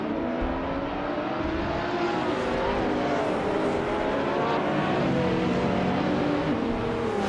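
Slow race cars pulling away at the start of a race at Enna Pergusa in a racing game, including a 2015 BMW CSL, a steady loud drone of several revving engines close by.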